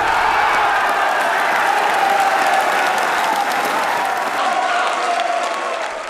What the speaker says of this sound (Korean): 참아왔던 평창의 함성이 터져나왔다